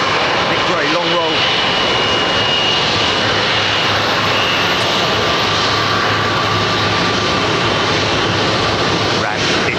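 Jet airliner on a long takeoff roll down a runway at London Heathrow, a loud continuous engine roar heard from nearby that sustains at full strength for the whole stretch, with voices talking under it.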